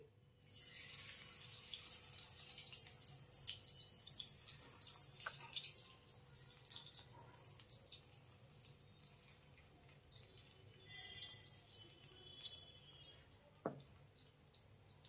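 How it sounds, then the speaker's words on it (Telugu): Cauliflower pieces for Gobhi 65 frying in hot oil over a medium flame, a steady close sizzle with fine crackling and a few sharper pops, continuing without talk. "ఆయిల్ బాగా వేడైన తర్వాత మీడియం ఫ్లేమ్లో పెట్టుకుని వేయించుకోవాలి."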